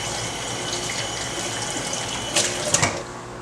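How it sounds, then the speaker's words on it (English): Hands being washed under a running kitchen tap, a steady rushing stream of water with brief splashes and rubbing bursts near the end, close and alone. "we're gonna start by me washing my hands"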